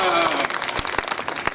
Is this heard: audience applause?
yes